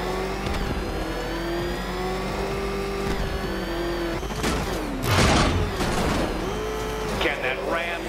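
Game car engine from Batman: Arkham Knight, revving in sustained droning pulls with a rising pitch sweep and a loud burst midway, mixed with game effects and talking voices.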